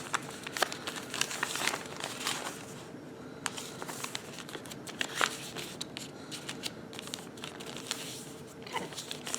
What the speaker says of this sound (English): We're gonna fold it again.